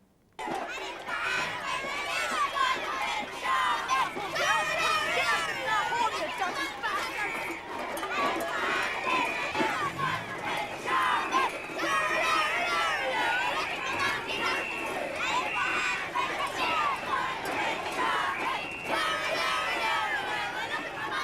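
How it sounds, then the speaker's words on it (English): A gathered crowd of women and children chattering and calling out together, a dense, lively wash of many overlapping voices that stays loud and close throughout. "The usual crowd of women and children gathering."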